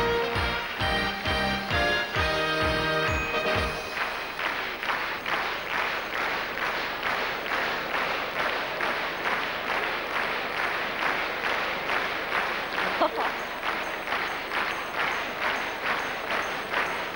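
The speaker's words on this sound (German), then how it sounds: "Applaus" A studio audience at a German folk music TV show, an ARD autumn festival, claps in a steady, loud rhythm right after a few seconds of music fade out. The beat stays even throughout.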